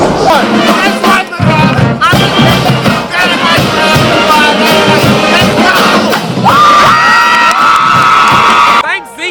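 A crowd at a high school home football game cheers loudly, with whoops, yells and shouting voices layered close and energetic, briefly dipping before surging again toward the end.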